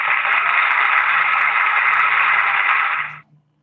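A PowerPoint applause wave slide-transition effect: a steady, loud burst of dense clapping-like noise lasting about three seconds, then cutting off abruptly, heard alone.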